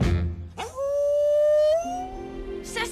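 A dog lets out one drawn-out, rising howl that carries close and clear for over a second, followed by softer trailing sounds. A brief noisy rustle comes before it, and no one speaks.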